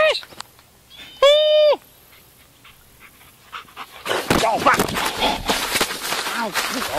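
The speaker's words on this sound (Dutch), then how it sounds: "Dan is een hond zo, zo blij dat hij naar je toe komt." An excited dog runs toward the camera, giving a brief high whimpering yelp early on and then panting and scuffling loudly up close.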